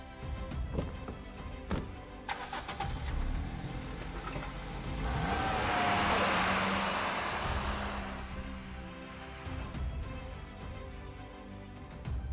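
A car engine in a video game starts and revs up, swelling to a loud broadband roar mid-way, then settling back among clicks and other game sounds.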